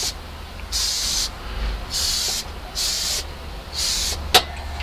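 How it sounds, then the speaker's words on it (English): Alclad lacquer sprayed from about three inches onto a model car body and hood, heard as four or five steady airbrush hisses, each roughly half a second long with short pauses between, close and moderately loud, ending with a brief sharp click. "You can see I'm spraying about 3 inches or so away from the body"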